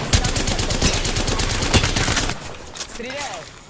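An R-301 carbine in Apex Legends fires a rapid automatic burst for about two seconds, loud and close, then stops as quieter game sounds follow.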